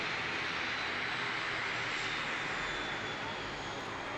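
An ATR turboprop airliner at Christchurch Airport, New Zealand, gives off a steady, broad engine roar that holds evenly throughout at moderate distance, with no talking.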